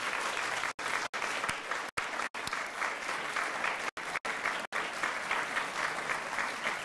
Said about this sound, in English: give everybody who has supported you a big round of applause